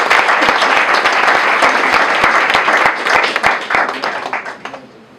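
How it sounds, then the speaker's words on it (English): Audience applause at a student association election event, dense sustained clapping from a crowd that stays loud, then thins and tapers off toward the end. "So guys, give a big round of applause for them."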